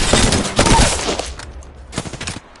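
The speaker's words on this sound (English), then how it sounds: "They spotted me. I'm taking shots." Shotgun fire in Apex Legends during a squad fight, with loud clustered blasts packed into the opening second and further bursts near the two-second mark amid game noise.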